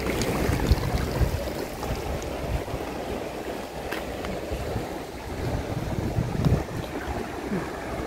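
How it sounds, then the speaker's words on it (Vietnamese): Water flows and splashes over rocks at Nha Trinh dam in Ninh Thuan, a continuous rushing wash with some wind noise, moderately loud and steady, no voices. "Đá nó tạo nước chảy luôn"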